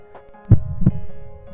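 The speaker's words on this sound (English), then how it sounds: "Heart beating." Heartbeat sound effect in an audio drama: two close, deep thumps a third of a second apart over a faint steady hum, with no voices.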